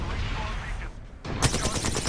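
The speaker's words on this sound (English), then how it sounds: "Shots fired." Gunfire from an Apex-style battle royale shooter game, a dense burst of shots loud and close in the second half after quieter game ambience, with game voice callouts mixed in.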